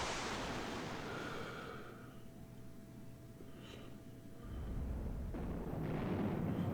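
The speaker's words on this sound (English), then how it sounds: "It's an impressive missile barrage, but it's not actually very effective." Missile barrage explosions in the video game Highfleet, a rolling series of muffled booms and rumbling blasts at moderate distance, quieter in the middle and building again toward the end, with no voices.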